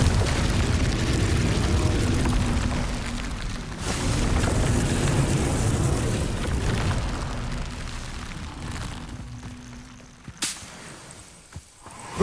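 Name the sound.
Confringo explosion spell, from video game Hogwarts Legacy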